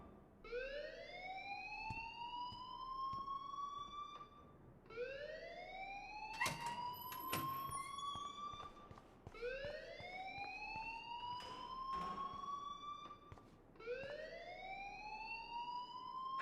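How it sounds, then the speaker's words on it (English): School alarm in the video game Life is Strange wails in repeated rising sweeps, about every three to four seconds, steady and moderately loud, with a few clattering bumps mixed in. "please turn off that alarm since that's your job"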